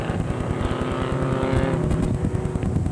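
Mini stock race cars roar together in a 20-lap short-track event, engines loud and steady with a constant droning rumble and no pause, close to the listener.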